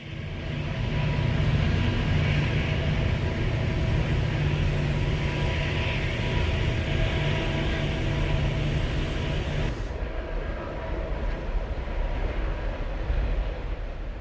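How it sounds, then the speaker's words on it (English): A long freight train powered by four diesel locomotives on the head end and four mid-train units grinds around tight curves on steep grades, a loud, steady low rumble with a drone of engines that drops off sharply partway through. "Four units on the head end and a quartet of mid-train locomotives keep this long train grinding along around the tight curves and over the steep grades"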